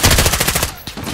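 A machine gun hammers out a fast, loud burst of evenly spaced shots in Call of Duty: Modern Warfare, then stops abruptly, with a few single cracks after it.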